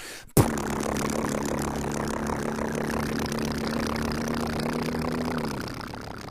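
A voice imitating a propeller airplane, a buzzing, droning engine tone held steadily for several seconds before trailing off.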